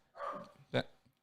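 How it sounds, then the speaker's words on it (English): A dog barks once, short and fairly loud from somewhere nearby in the background, just after a stretch of indoor talk. "sorry if you can hear the dog barking back there."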